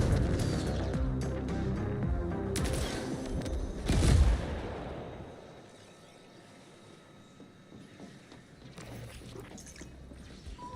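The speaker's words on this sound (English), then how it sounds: "I can shoot the launcher, but only if I aim up." A rocket launcher fires in a video game with a burst of heavy booms and a rumbling blast that peaks briefly, then tails off into quieter background rumble and scattered crackles.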